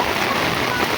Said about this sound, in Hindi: अचानक ये बारिश आई और सब लोगों को खड़ा कर दिया इधर उधर।